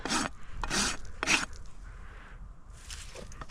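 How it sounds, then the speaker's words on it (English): A hoof rasp files a mini pony's laminitic hoof smooth with three quick, rough scraping strokes close up, followed by softer rubbing and scraping. "just gonna rasp her smooth"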